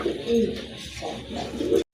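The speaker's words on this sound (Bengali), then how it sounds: "আরেক জোড়া কবুতর এটা হচ্ছে রাজগোল্লা কবুতর" Rajgolla pigeons coo in a pair of low, throaty bursts close by, one near the start and another near the end, with a soft murmur of background noise between them.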